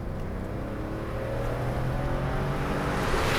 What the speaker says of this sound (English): That flat 6 engine.